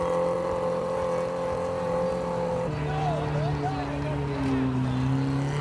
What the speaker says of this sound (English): A powerful skidder with a 100 horsepower engine is pulling another skidder and a Chevy 4x4 stuck in the mud.